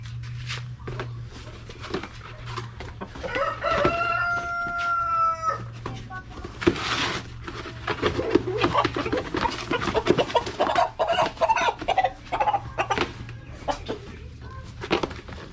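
Chickens cluck and a rooster crows loudly nearby with a rising, stretched call, followed by scattered clucking and rustling, with no talking.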